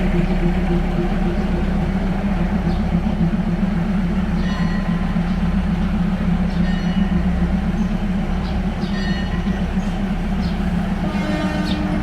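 A train at Bang Sue station in Bangkok, a loud continuous rumble with a low engine drone and rolling rail noise, plus a few faint metallic squeals near the end.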